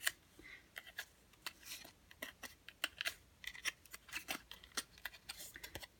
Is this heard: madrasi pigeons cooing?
no